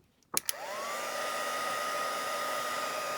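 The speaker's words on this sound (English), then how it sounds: "Now I've got my heat gun here, and I'm just going to heat up the embossing powder that we've put on there." A heat gun melting embossing powder on cardstock switches on after a couple of clicks and settles into a steady, loud blowing whir that stays close and continuous.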